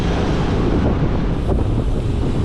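Strong wind roars and buffets the microphone continuously during an uphill bike ride under overcast skies, a loud, dense rushing that masks everything else.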